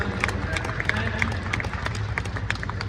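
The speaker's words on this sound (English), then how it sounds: "I know you're clapping for her" An audience at a horse roping demonstration at an expo claps in a steady, lively patter of many hands, filling the space continuously with crowd noise beneath.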